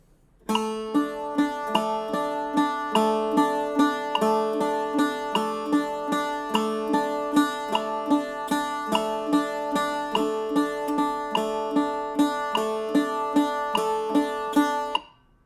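Bright plucked bouzouki strings repeat a steady triplet picking figure alongside faint metronome clicks, an even pulse continuing for several bars with no voices.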